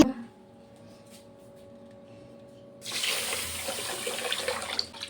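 Tap water starts running into a sink partway through, a steady rushing pour as rice is washed for chicken biryani, after a quieter stretch of faint kitchen hum.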